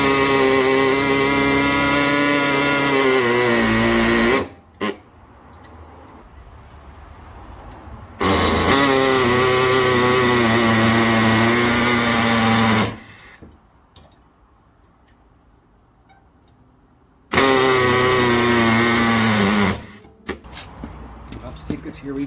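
A compressor-powered cutting tool working on the exhaust pipe of a diesel Mk3 Golf, loud buzzing bursts of several seconds each, broken by quieter gaps of shop noise and faint talk.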